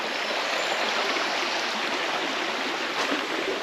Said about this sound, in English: There's just something about the sound of water, isn't there?